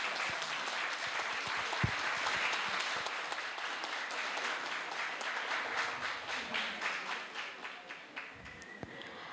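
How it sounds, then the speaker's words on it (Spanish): Audience at an academic book presentation applauds in a steady wash of many hands, fairly faint and even at first, then thinning toward the end into more distinct individual claps. "Un aplauso, por favor."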